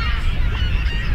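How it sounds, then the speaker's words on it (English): Geese honking on an island in the Columbia River at Lake Wallula, a steady close chorus of calls over low rumbling wind or water noise. "these birds love this island"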